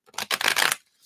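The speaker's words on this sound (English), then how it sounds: "I'm just going to shuffle all these cards for the entire reading" A deck of tarot cards being shuffled, heard as a short, loud papery riffle of several quick flutters lasting under a second, then near silence.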